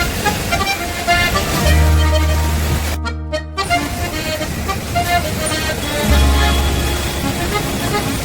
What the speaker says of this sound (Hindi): लेकिन ये ट्रैफिक और ये जाम, सर दर्द, पता नहीं ये परेशानी कब खत्म होगी यार।